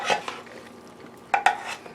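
Turkey stew is stirred in an oblong multi-cooker pan, giving a few close clinks and scrapes of a utensil against the metal, with two sharper knocks near the end and a faint sizzle underneath.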